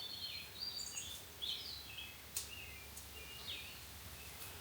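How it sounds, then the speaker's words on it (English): Faint, scattered chirps and whistled calls from songbirds at a morning campsite along the Appalachian Trail, a few distinct notes over quiet background hiss. "Listen to the birds, you guys."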